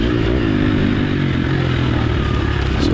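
A motorcycle engine revs up loudly and steadily as the throttle is twisted while riding rough terrain, with a constant close roar and some clattering underneath.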